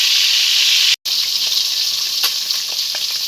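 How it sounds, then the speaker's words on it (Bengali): Hilsa fish heads frying in hot oil give a steady, loud, close sizzling hiss that runs unbroken except for one brief drop near the start. "মাছগুলো আমি ভালো করে ভেজে নেব।"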